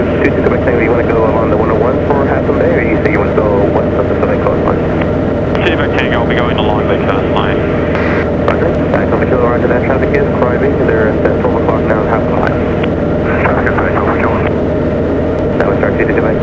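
Light airplane flying low over San Francisco Bay, a steady loud engine drone with the pilot talking and radio chatter over it throughout.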